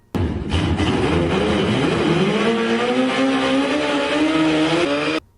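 A turbocharged Suzuki Hayabusa motorcycle of about 500 horsepower roars close by, its engine note climbing steadily in pitch under hard acceleration for roughly five seconds before cutting off abruptly.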